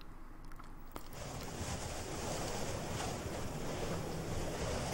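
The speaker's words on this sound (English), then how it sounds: "That water spout came out of nowhere" A water spout in The Granstream Saga, a rushing roar of churning water and wind that builds and holds loud and steady after a quieter start.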